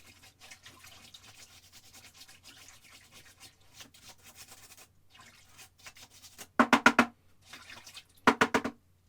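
Paintbrush rinsed in a water jar during oil painting of a canvas landscape: faint rubbing and dabbing, then two short bursts of rapid swishing, clinking strokes near the end, with no talking.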